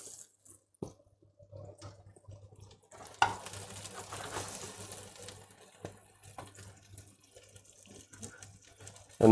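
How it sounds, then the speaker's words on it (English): Mushrooms searing flat side down in butter in a hot pan for a creamy mushroom risotto give a soft, uneven sizzle that swells in the middle, with occasional light knocks and scrapes of the pan. "once you have a nice sear on the flat side of the mushroom, like this, you can turn them"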